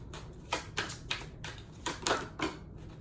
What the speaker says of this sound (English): Sometimes I feel like y'all need to see how I'm shuffling, because the way how the cards fly out is crazy.